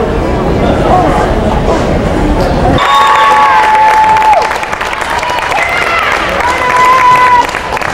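Crowd noise and cheering fill a high school volleyball gym during a section semifinal between Beekmantown and Plattsburgh, a dense, steady roar with a commentator talking over it, the crowd sound thinning after a sharp drop in the low rumble.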